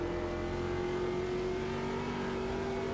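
A Stadium Super Truck engine holds full throttle in Automobilista 2 during a USAC Stadium Super Trucks race at Long Beach, giving a steady, moderately loud droning whine that stays even throughout with no voices.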